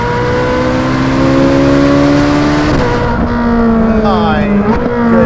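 Loud, close howl of a naturally aspirated Ferrari supercar engine with carbon ceramic brakes on an open road in South Africa, holding a high rising note before easing off and swooping through quick pitch changes as gears shift.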